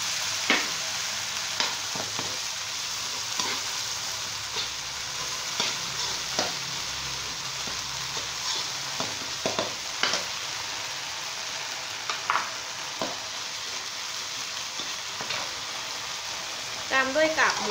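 Long beans stir-fry in a pan with shrimp paste for a Southern Thai dish, giving a steady close sizzle broken by frequent scraping stirs and clacks of the utensil against the pan.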